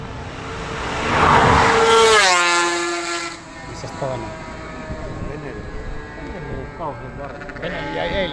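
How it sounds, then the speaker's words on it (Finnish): Vintage two- and three-stroke racing motorcycles roar past at the Imatranajo race, a loud engine swelling to a peak and fading as a high revving note sweeps downward, followed by further engine noise while someone comments. "eli moottorin pauhetta"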